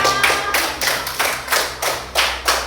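A second-grade class in an Islamic education lesson applauds together, with about eight rhythmic bursts of clapping in quick succession, close and lively.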